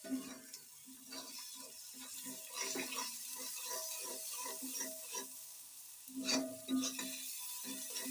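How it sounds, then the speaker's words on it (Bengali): Onion and ingredients sizzle and fry in a pan while being stirred for homemade pasta, with rhythmic scraping and clattering strokes and a steady hiss. "একটু ভেজে নিব।"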